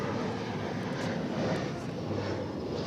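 An American Airlines airliner on runway 18 left at DFW Airport gives off a steady, broad jet roar, fairly loud and unbroken, with no talk over it.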